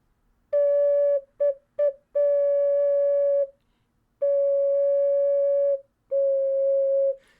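Pure, flute-like tones from a C3 tenor concert ocarina played alone: two short notes, a longer held one, then two more sustained notes separated by brief pauses.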